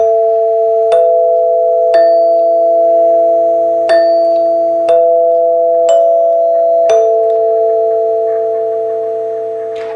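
A NuTone Model L60 eight-note Westminster bar chime rings out clearly, its eight struck bars sounding one by one at a slow, even pace and leaving long, bright, overlapping tones that ring on and fade.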